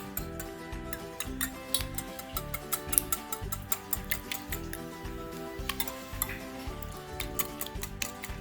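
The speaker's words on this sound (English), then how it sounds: "Now you're going to whisk away." Eggs being whisked in a bowl for Jamaican Easter bun, a quick rhythmic ticking of the whisk against the bowl, moderately loud and steady under backing music.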